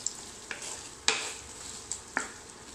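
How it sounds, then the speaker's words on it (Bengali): Onions frying with chopped garlic and dried chili for beef rezala, a soft continuous sizzle broken by a few sharp scraping stirs of a spatula in the pan. "দিব রসুন কুচি, দিয়ে শুকনা মরিচটা দিব, দিয়ে আমি পেঁয়াজটা ভাজবো।"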